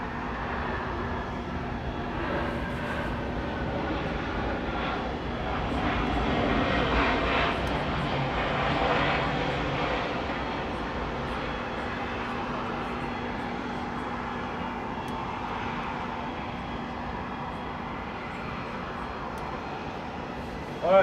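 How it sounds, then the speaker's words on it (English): An American Airlines jet airliner passes at Atlanta airport with a steady, broad engine roar that swells slightly midway and then holds at a distance. No one talks over it. "Comes an American jet."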